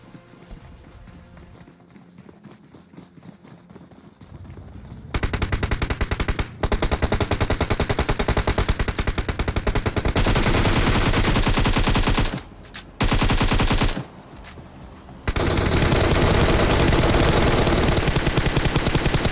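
Sustained machine gun bursts in the battle royale game BGMI, loud and rapid, starting after a quiet opening and running in long dense volleys with a few brief pauses between them.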